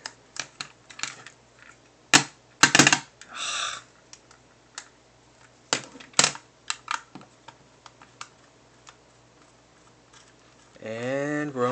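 Small screws being unscrewed while a Game Boy Pocket is taken apart, sharp irregular close clicks and ticks with brief pauses, and a short voiced sound at the end.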